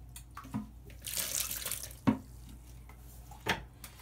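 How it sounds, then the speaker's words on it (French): Water being scooped and poured out of a toilet bowl during a home toilet repair, giving a few separate splashy pours and drips spread over a few seconds, close and moderately quiet. "il faut répéter l'opération de vider l'eau de la cuvette"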